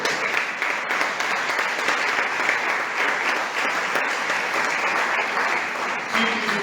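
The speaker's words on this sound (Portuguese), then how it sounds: "aplauda esse Deus maravilhoso" A church congregation applauds together, a dense and steady wash of many hands clapping that keeps an even loudness throughout without breaks.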